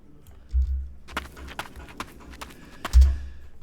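Footsteps sound effect, apparently steps on gravel: a string of sharp, close crunching steps in an uneven rhythm, with heavier thuds near the start and near the end, and no voices.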